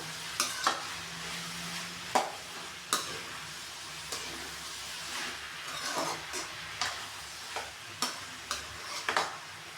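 Turmeric powder frying in a pan: a soft, low sizzle under a spoon stirring, with sharp scrapes and taps against the pan recurring every second or so.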